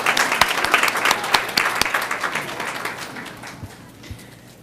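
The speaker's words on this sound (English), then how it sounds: "So first thing I'm going to do is applaud all of you for being here tonight" Brief applause from a small handful of people at a school board meeting, crisp individual claps that start lively and thin out, fading to a few scattered claps by the end.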